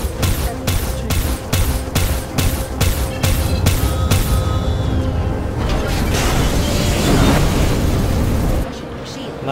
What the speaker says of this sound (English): You do get missiles on this ship.